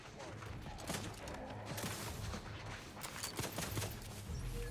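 Gunfire in The Outer Worlds 2 game, a dense irregular string of sharp shots and impacts over low rumbling background, fairly faint but constant across the stretch.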